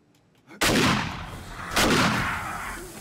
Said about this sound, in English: Missed like 17 shots